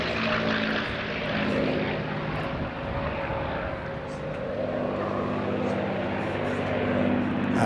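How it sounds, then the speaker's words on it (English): A P-51D Mustang propeller fighter named Warhorse breaks and climbs out during a summer air display, its engine a steady loud drone throughout with slight swells in level, while a commentator talks over it. "I think he's going to do a little break right in front of us and then climb out"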